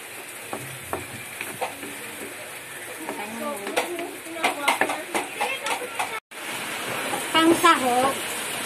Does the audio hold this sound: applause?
no